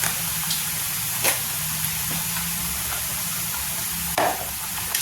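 Masoor dal with spinach and asafoetida sizzles and fries in a hot pan, a steady hiss broken by a few sharp stirring scrapes, close and continuous with no talk.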